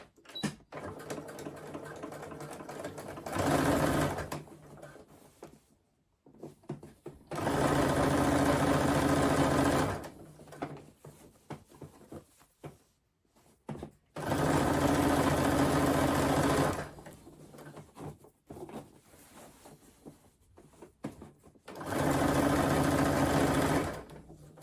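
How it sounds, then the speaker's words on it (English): A sewing machine stitches a crossbody bag lining in four separate runs of a few seconds each, a close, steady mechanical whirr that starts and stops with quiet handling of fabric in the pauses. "So I'm all ready to sew now."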